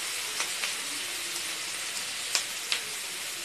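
Chicken fried rice sautéing in a pan, a steady soft hiss of frying with a few faint pops and clicks scattered through, close and without talk.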